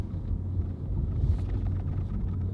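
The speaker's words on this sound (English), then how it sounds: "It burbles more." Toyota Supra Mk5 with exhaust valve open in sport mode, a low, steady burbling rumble at idle-like pace, fairly quiet and heard from inside the car.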